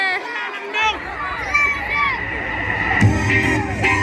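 Festival crowd in a dusty open-air setting at a DJ performance, a dense, close hubbub of cheering and shouting voices with a louder burst of whoops partway through over a low rumbling bass.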